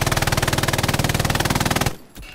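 Rapid automatic gunfire from the World War II shooter game Hell Let Loose rattles loud and close in an unbroken burst for about two seconds, then cuts off.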